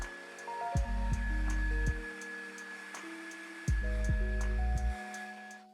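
Handheld blow dryer running steadily through a home hair-drying session, a continuous close whir with a thin high whine, its pitch and airflow shifting in short sections as it is moved and adjusted.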